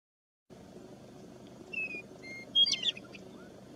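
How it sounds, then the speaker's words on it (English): Western meadowlark song in open country: a few thin, clear whistled phrases and a brief burst of warbling notes, fairly faint over steady wind-like background noise. "Western meadowlarks."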